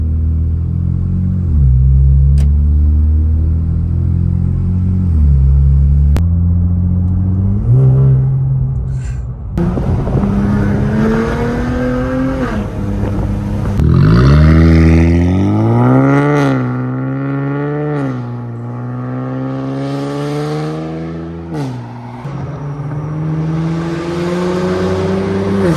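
An Infiniti Q50 with full downpipes idles with a deep burble, then revs repeatedly, each blip rising sharply in pitch and falling back, growing into long, loud raspy pulls before settling again, close to the car.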